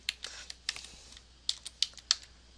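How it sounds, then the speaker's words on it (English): Typing on a computer keyboard: a quick run of crisp key clicks in irregular bursts, fairly close and quiet, with no voices. "let's type our caption"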